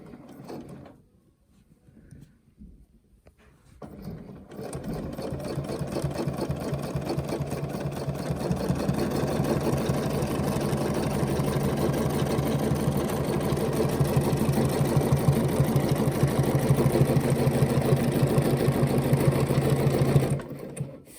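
A sewing machine stitches a quilt guided by a Westalee ruler, starting after a few quiet seconds of handling, then running as a steady, close mechanical whir for about sixteen seconds before stopping.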